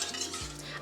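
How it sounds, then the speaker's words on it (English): A whisk or utensil stirs a sugar glaze heating in a pan, a brief close scraping and stirring sound over a steady low hum. "we want that sugar to get dissolved"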